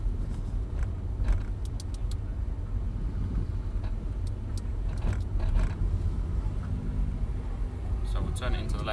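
Audi R8 sports car driving at low speed around a parking area, a steady engine and road rumble running throughout with occasional ticks, while people talk inside the car.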